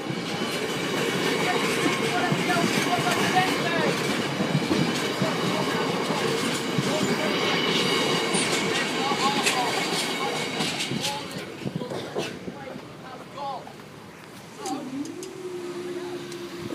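Freight train rolling through a level crossing, loud clattering wheels and rumbling wagons that ease off toward the end, leaving a quieter tail with a brief sustained tone.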